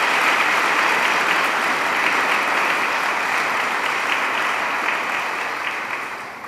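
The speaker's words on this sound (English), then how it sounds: "So let's give them a big round of applause." Audience applause at an opening celebration for a new building, a steady dense wash of many hands clapping that holds evenly for several seconds, then begins to thin and fade toward the end.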